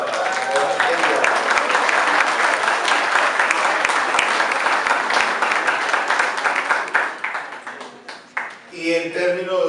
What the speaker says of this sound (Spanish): Un aplauso para todas ellas